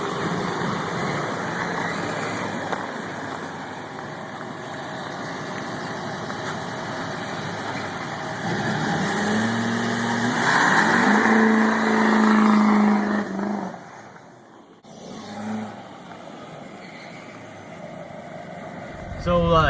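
A Duramax diesel truck engine, an LBZ, runs at a steady low idle with a rough rumble, briefly rising around the middle before dropping off and settling again; speech is faintly present.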